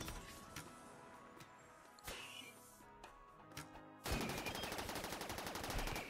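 Gunfire in the video game RimWorld: sharp single shots scattered over the first few seconds, then a dense continuous burst of rapid fire at a steady level.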